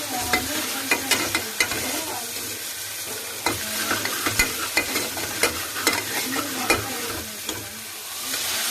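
Onion, ginger and garlic frying in a pan, a constant close sizzle broken by repeated clacking stirs of a spatula at an irregular rhythm.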